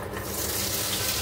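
A steady sizzling hiss of okra frying in hot oil, close and continuous, with a faint stirring scrape.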